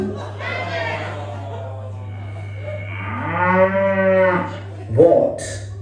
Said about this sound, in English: Well, that's clearly a cow, isn't it?